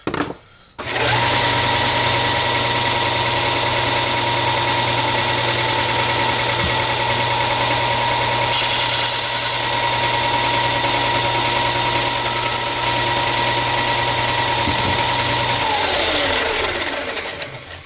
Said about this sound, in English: Now to try to work on that belt sander.